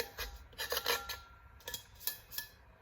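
Quiet, close scraping against the rim of a cup comes in short, uneven strokes, with faint metallic clinks between them.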